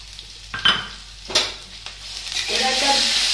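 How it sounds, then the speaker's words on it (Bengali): Ajwain, panch phoron and spices fry in a pan while a utensil stirs with a few close scrapes and knocks, then the hot oil builds into a steady, loud sizzle. "এটা একটা একটুখানি মশলাটাকে ভেজে নিই।"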